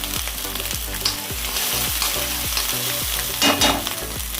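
Misal masala mixture frying in hot oil with steady sizzling, and a spoon stirring through it in a regular scraping rhythm, close and continuous, with a brief louder clatter near the end.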